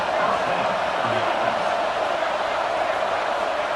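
Steady roar of a stadium crowd in an EA College Football video game, a dense, loud wash of cheering that holds constant throughout.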